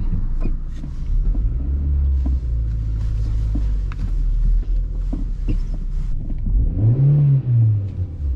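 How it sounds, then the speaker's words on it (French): A 2004 Renault Twingo's small 1.2-litre, 1149 cc engine hums and rumbles steadily while driving, with a rising rev near the end; close and fairly loud, heard from inside the car. "je suis sûr que c'est le moteur 1149 cm3"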